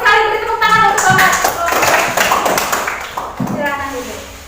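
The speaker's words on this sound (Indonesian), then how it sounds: "beri tepuk tangan untuk Thomas" A classroom of students gives a short round of applause for a classmate, with scattered clapping bursts mixed with voices and talk.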